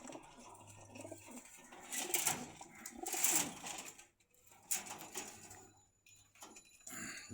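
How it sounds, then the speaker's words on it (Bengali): Pigeons coo softly in bursts at a pigeon market in Dhaka, with low, close cooing phrases mixed with rustling and flapping sounds, separated by short quiet gaps. "খুব সুন্দর কবুতরগুলি, মাদি সবগুলি।"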